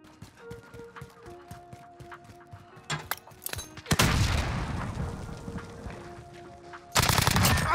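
Video game gunfire: rapid automatic bursts, then heavy booming shots with long rumbling tails, loud and close, amid in-game noise.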